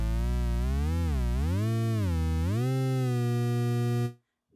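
Pure electronic tones from a game soundtrack instrument, sliding smoothly up and down in repeated swooping bends with rich harmonics, steady and moderately loud before cutting off abruptly near the end.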